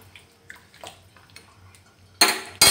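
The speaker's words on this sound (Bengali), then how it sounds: "তো এইবার আমি এটাকে কড়াইটাকে সোজা করে দেবো।" A bent metal kadai is knocked back into shape on the stove while potatoes cook with chicken. Soft clinks and taps lead to a sudden loud, harsh metallic scrape and clatter near the end.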